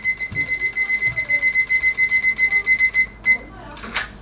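A timer or alarm clock beeps in a rapid, steady pulsing rhythm for about three seconds, then stops with a couple of faint clicks, marking the start of a 35-minute math test in a classroom.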